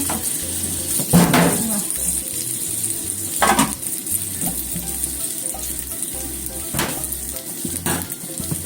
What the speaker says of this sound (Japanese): お水を大さじ2杯くらい入れて蒸し焼きにします